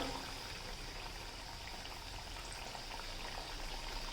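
Potato bhaji fry in hot oil, a dense, even bubbling hiss that holds steady throughout, fairly soft and close, with no talk over it.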